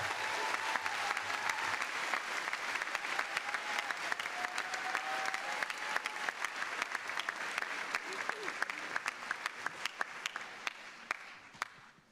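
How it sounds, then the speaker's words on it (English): An audience applauds a graduating high school class of 2014 at a commencement ceremony, sustained dense clapping from a large crowd that slowly thins and fades toward the end. "please give a warm round of applause for this amazing class"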